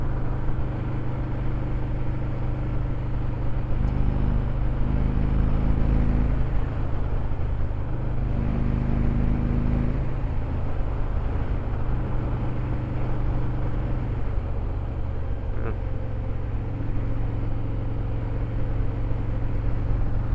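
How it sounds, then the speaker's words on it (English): A motorcycle cruising on a road, its engine a steady, loud drone with a constant low rumble and slight shifts in pitch as it rolls along, no talk. "Anyway, bike's running good."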